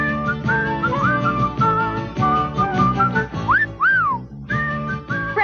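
Jaunty melodic human whistling from an Irish Spring soap commercial, clear and close, with quick trilling notes and a couple of rising and falling swoops over a light musical backing.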